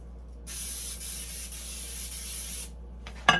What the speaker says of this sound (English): make sure you spray your pan